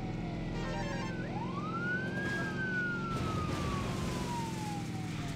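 A police car siren in the video game Midtown Madness wails in a rising and falling sweep over a steady low engine rumble, moderately loud and alone with no talk.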